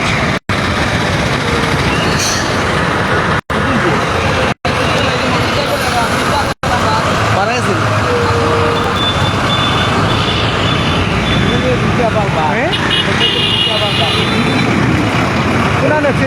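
Jammed traffic on the Sylhet–Dhaka highway near Telibazar after an accident, a loud continuous roar of idling trucks and cars with a faint reversing-type beep, under near-constant talking.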